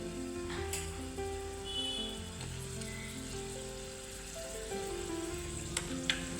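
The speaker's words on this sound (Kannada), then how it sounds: "ಚೆನ್ನಾಗಿ ಫ್ರೈ ಮಾಡಿ" Cashews, raisins and a little coconut fry in a pan for Sankranti pongal, giving a steady, even sizzle that runs throughout with a faint tonal hum beneath and a couple of small clicks near the end.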